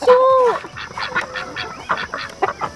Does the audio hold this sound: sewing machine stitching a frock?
no